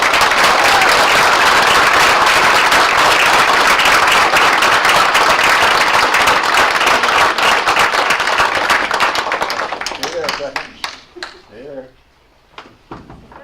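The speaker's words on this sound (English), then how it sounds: "Let's give them a nice round of applause." Audience members at a school board meeting clap loudly for a long stretch, then the applause thins into scattered claps and fades, with brief voices and room noise at the end.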